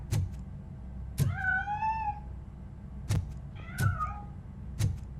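A cat meows in the Robocop Rogue City video game, two clear, drawn-out meows rising and falling, heard up close between heavy, evenly spaced metallic footsteps.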